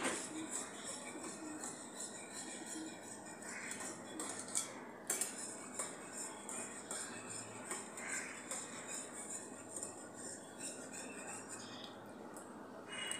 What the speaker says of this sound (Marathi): हेही फेटून घेऊया चांगले